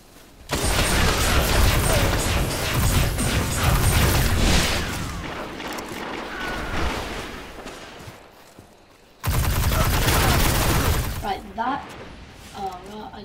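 Sustained bursts of automatic fire from the Hard Light weapon during Destiny Iron Banner multiplayer, loud and dense. A pause follows, then another sharp burst with game effects, and a player talks over the shooting.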